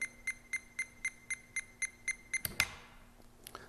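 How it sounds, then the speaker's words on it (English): A digital multimeter repeatedly beeps during a continuity test of its fuses, a rapid run of about nine identical short, clear, close electronic tones, followed by a sharp click and a clatter of handling noise. "That beep tells us that our fuses are good."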